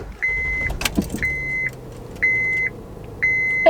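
A car chimes a repeated warning tone, four evenly spaced beeps each lasting about half a second, loud and close inside the vehicle, with a brief thump and rustle between the first two.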